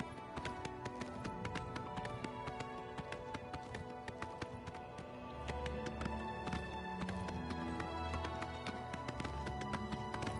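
A horse in the Oblivion Remastered video game gallops with rapid, continuous clip-clop hoofbeats, close and steady throughout, with no talking over it.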